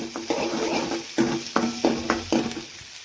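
Onion, mustard seeds, urad dal and cumin sizzle in hot oil for bun dosa, a close, steady frying hiss broken by several sharp scraping stirs of a spoon against the pan, with no talk.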